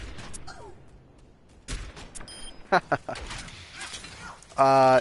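Orisa's gun firing in the Overwatch video game, a few sharp paired shots in the middle followed by a loud dense burst of fire at the end, over faint game background noise.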